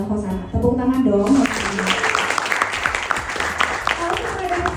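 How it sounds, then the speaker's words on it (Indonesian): Audience applause at a public speaking presentation breaks out after a brief opening, dense clapping filling the room and continuing steadily to the end, with voices mixed in underneath. "Tepuk tangan dong."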